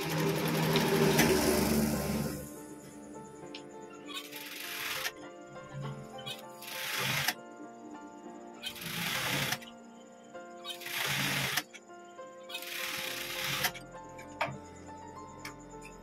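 A sewing machine stitches a blazer in about five short, loud rattling bursts separated by quiet pauses, preceded by a longer run at the start.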